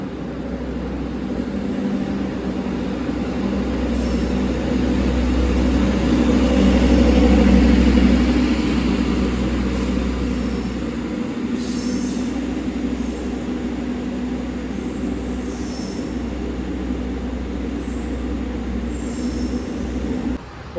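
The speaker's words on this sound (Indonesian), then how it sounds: "kereta api Pandalungan berangkat dari Surabaya Gubeng menuju Surabaya Pasar Turi" The Pandalungan passenger train pulls out of Surabaya Gubeng station with a continuous low rumble of rolling wheels and carriages, swelling slightly midway, heard steadily from on board or close by.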